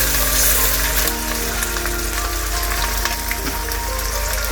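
Duck meat frying in a pan for Bangladeshi duck bhuna, with onion paste just added, giving a steady, close hissing sizzle that fills the whole stretch without pause.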